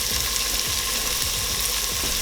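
Garlic sizzles and fries in a hot pan for a vegetarian sweet potato chili, a dense, constant crackling hiss with a few soft stirring knocks underneath.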